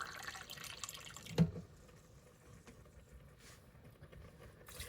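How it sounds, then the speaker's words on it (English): Water from a tomato paste can is poured into an Instant Pot, a faint splash and trickle at the start, then a single soft drip or clink before quiet background sounds. "I'm going to put some more water in from my tomato paste can."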